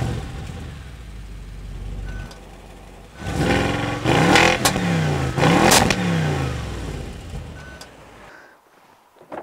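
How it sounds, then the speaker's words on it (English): A cold Audi RS7 with a sports exhaust idles with a low rumble, then revs hard several times with rising and falling engine whines before settling back toward idle. "I'll start it up for you in a second so you can hear it how it sounds on a cold startup"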